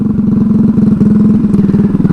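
A Honda Ruckus scooter with a GY6 engine and an open header pipe runs loud and close, its rapid raspy exhaust pulsing in an even throb with no talk.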